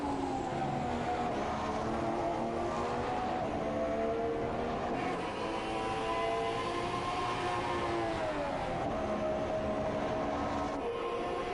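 A Ferrari race car engine in a racing video game drones through a hot lap, its pitch rising and falling with gear changes in a continuous, steady onboard whine.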